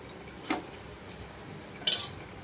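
Chana dal being stirred in a pot after salt is added, with a few sharp metallic spoon-against-pot clinks spaced out over quiet background hiss.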